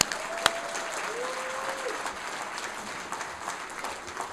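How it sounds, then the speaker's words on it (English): Audience applause fills a hall at the 2016 Manhattan College Athletic Hall of Fame ceremony: a steady, dense wash of clapping from many hands that holds for several seconds, with one sharp, louder clap near the start. "So a round of applause for everybody."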